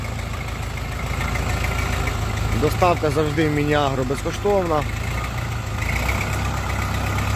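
A Jinma 404 mini tractor with a cab idles with a steady low diesel rumble throughout, running under a voice talking in the foreground.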